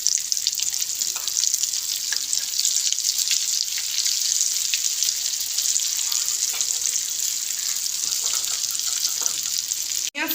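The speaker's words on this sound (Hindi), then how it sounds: "हमने इसके अंदर अंडा ऐड कर लिया था इसलिए इजी से फ्राई हो जाएंगी" Chicken shami kababs bound with egg frying in ghee, a bright, continuous sizzle and crackle close by with occasional stirring noises, ending in a sudden brief clatter.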